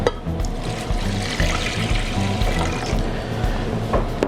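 Water is poured steadily into a pot to rinse rice, a continuous splashing and gurgling stream close by, with no talk.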